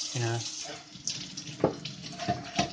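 Tap water runs and splashes while a plastic fridge part is rinsed under a faucet in a sink, with short bursts of flow and clatter, heard close and moderately loud alongside brief speech.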